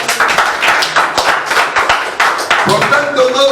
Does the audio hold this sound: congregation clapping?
yes